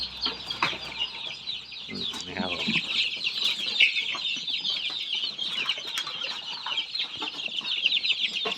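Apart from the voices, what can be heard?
newly hatched chicks cheeping in a brooder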